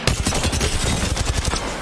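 Dense, continuous gunfire in a video game firefight, a rapid rattle of overlapping shots that stays loud and close for the whole stretch with no voices.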